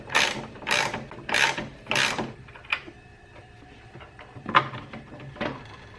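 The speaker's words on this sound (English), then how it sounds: "I'm going to start by taking off this bolt to release the grass flap from this mechanism." A bolt being loosened to free the grass chute flap on a SCAG V-Ride mower: four close ratchet bursts in quick rhythm, a pause with faint clicks, then two more ratcheting runs, loud and near with no talk.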